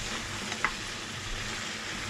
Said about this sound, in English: I'm just frying.